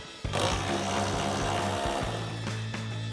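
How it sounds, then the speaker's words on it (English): A 10mm socket wrench works a nut loose on a 2024-2026 Mustang tail light, giving a steady close mechanical whir with harmonic hum that starts abruptly and runs throughout with small clicks. "Grab a 10mm socket and remove it."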